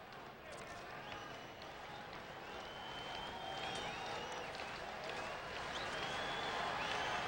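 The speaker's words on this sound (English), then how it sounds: "Crowd comes alive again with 2 outs" Baseball stadium crowd at a Pirates–Cardinals game rising into a sustained cheer with two outs and runners on first and third, a dense roar with scattered whistles that swells steadily louder toward the end.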